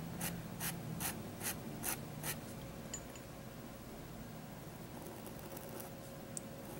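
A fine pen nib scratches across paper in about seven quick, crisp strokes at the start, then a faint, steady scrape continues under quiet room noise, close and soft.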